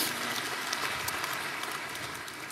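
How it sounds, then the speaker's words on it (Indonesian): Steady applause from a church congregation, a dense even wash of clapping that holds for the whole stretch at moderate level with no voices over it. "Berikan tepuk tangan kita untuk Tuhan kita."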